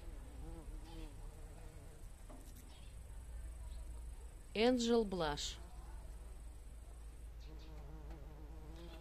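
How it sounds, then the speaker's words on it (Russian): Bees and bumblebees buzz around flowering panicle hydrangeas in an August garden, a faint steady hum with one louder buzzing pass close by midway. A person speaks softly at times. "Пчелки тут летают, шмели."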